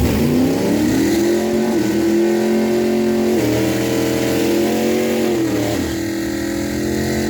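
A 1970 AMC Hornet drag car with a stroker engine launches at a dragstrip, its engine revving hard in a loud, close roar that climbs through several gear changes before easing off.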